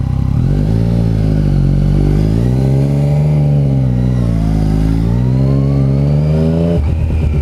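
A 2015 Yamaha FZ-09 (MT-09) motorcycle pulls away and accelerates, its engine drone climbing and falling through loud, close revs before a shift and a rougher note at the end.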